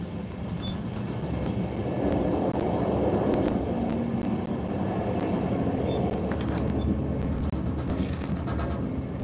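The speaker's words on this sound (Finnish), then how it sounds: "T5002 on tuo juna." A heavy freight train rumbles past nearby, a steady rolling roar with clanks and squeals from the wheels over the whole stretch.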